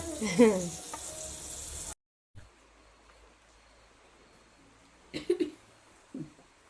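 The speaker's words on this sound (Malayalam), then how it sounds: "മല്ലിച്ചപ്പ് ഇട്ടിട്ട് ഇളക്കി കൊടുത്തിനെ" Curry with a fish head stirred in a pan after coriander leaves go in, a soft sizzle and scrape of the spoon coming in short bursts between quiet gaps.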